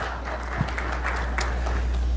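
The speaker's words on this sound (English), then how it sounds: "I can't believe that got a round of applause." Audience at a wine symposium keynote giving a round of applause, a steady wash of many hands clapping at moderate distance, with no voices over it.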